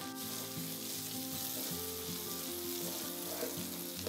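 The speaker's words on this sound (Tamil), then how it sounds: "பொடியாக கட் பண்ணி வச்சுருக்கிற கொத்தமல்லி, பூண்டு உரித்து வச்சது இந்த எண்ணெயில் சேர்த்துக்கலாம்" Coriander, peeled garlic and green chilli frying in hot oil with onions, giving a steady, loud, continuous sizzle with occasional stirring throughout.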